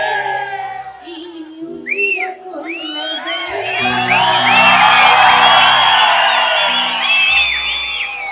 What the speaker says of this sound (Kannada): ಬರ್ಲಿ ಜೋರ ಚಪ್ಪಾಳೆ